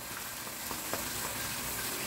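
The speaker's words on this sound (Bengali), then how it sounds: "লুচিগুলো ভাজা হয়ে গেল" Luchi, puffed fried bread, deep-fries in hot oil with a soft, continuous sizzle and a few brief crackles. The sound is fairly faint and has no talk over it.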